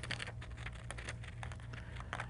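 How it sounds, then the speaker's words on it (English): Scissors cut out a paper working drawing for a balsa wood dragster, giving a soft, steady run of light snipping and rustling that sounds close and fairly quiet. "We'll use our scissors to cut out the working drawing"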